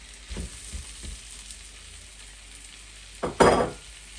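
Frozen vegetables go into a hot pan for a tofu and vegetable curry, with a few soft taps followed by a sudden loud burst of sizzling frying. No one speaks.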